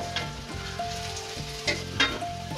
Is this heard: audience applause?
no